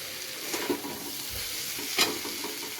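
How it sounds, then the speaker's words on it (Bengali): Kashmiri chilli powder and cumin powder being stirred and sautéed in a pan, a low steady sizzle with a few spoon scrapes near the start and one sharper stir partway through, no voices. "এবারে সমস্ত মশলাগুলোকে একসাথে ভালো করে কষিয়ে নেব"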